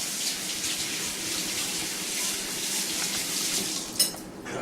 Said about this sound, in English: Now, rinse the spoon off here a little bit.